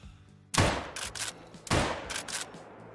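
.44 revolver shots in the hunting game Call of the Wild: two loud, close booming reports about a second apart, each trailing into a rolling echo across open terrain.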